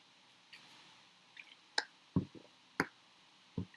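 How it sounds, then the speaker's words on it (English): A person drinking water in short bursts, a few soft gulps and swallows spaced over a few seconds, close and quiet, with no talking. "let me drink some water"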